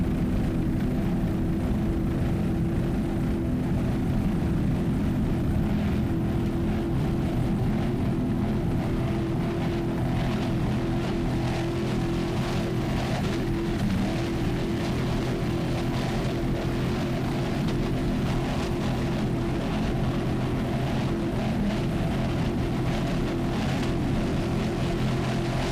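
A 38-foot Fountain twin Vortec-powered race boat in the Super V Light class at the 2002 APBA world championship races roars past in a continuous loud engine drone, with no talking.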